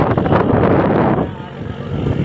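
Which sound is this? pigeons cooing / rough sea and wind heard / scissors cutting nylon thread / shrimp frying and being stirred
rough sea and wind heard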